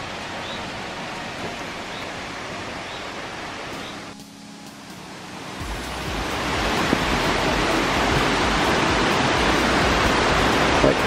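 Steady rushing water near a footbridge on a Puy de Sancy loop hike, loud and close, with a brief dip before the flow swells fuller and continues unbroken.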